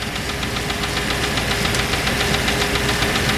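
A Land Rover Discovery II engine idles with a persistent rhythmic knock, a fast, even ticking pulse over a dense, loud mechanical hum, heard close up with no talking.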